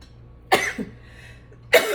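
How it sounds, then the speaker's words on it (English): Two sharp, close coughs about a second apart, with a quiet pause between them, while cayenne pepper is added during cooking. "You know me, I sneeze and cough."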